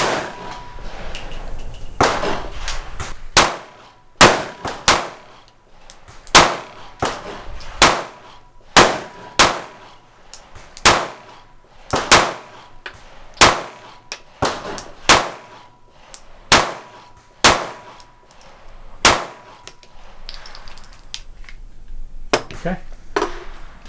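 Repeated pistol shots from an S&W M&P Shield Plus fire at a steady pace, each sharp crack followed by a ringing clang of rounds striking steel targets, with brief talk between strings.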